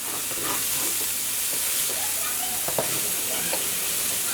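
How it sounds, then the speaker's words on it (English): Vegetables sautéing in a pan for Trinidadian fried rice, a loud continuous sizzle with steamy hiss and occasional soft stirring knocks, close by and without clear speech. "So you just want to mix that in and allow it to saute for about a minute"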